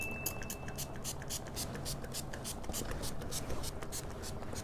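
A rapid, steady series of short deodorizer spray bursts on a raw denim jacket, hissing quietly at close range over a faint background rumble.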